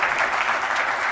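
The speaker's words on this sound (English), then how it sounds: "can we get a huge round of applause and gratitude for Coach?" An audience applauds a coach at a talk on Title IX, dense clapping that fills the whole short moment at a steady, fairly loud level.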